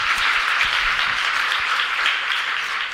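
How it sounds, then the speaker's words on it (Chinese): Church congregation clapping during a Sunday worship service, steady dense applause filling the room at moderate loudness with no talk over it. "我们拍手鼓励他们来"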